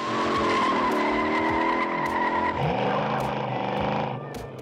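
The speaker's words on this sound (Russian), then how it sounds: "большая часть звуков, такие как рев моторов и визг шин, реальные" Loud car engines roar as tires squeal and skid in the 1968 Bullitt car chase, a sustained screeching tone shifting in pitch before fading slightly at the end.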